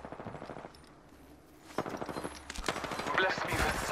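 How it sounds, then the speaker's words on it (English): Automatic and rapid gunfire rattles in a video game, bursts of close shots growing louder and denser toward the end, with a voice talking under parts of it. "They're shooting at me."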